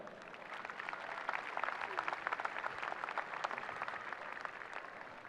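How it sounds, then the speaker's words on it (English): Audience at a high school graduation ceremony clapping, a faint, distant, steady patter of many hands lasting the whole stretch. "Please give them another round of applause."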